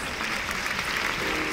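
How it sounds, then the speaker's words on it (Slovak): A large audience at a Mary Kay cosmetics company recognition event applauds loudly and continuously, a dense wash of clapping with no break. "Prosím, obrovský potlesk."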